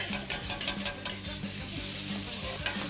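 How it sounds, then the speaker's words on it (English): Egg mixture whisked and food frying in a pan during a studio cooking game show, steady stirring and scraping with a continuous sizzle, close and moderately loud, no talk. "Whisk that up now"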